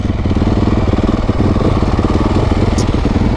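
A Honda CRF450R supermoto motorcycle engine runs close and loud, a steady, throbbing single-cylinder drone that holds without a break.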